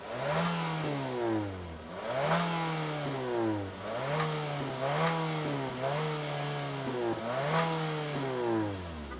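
A 2023 Nissan Altima SR Turbo starts up and settles into a turbocharged idle, with repeated rising and falling engine tones that sound like revs swelling and easing roughly every second or two, steady and close.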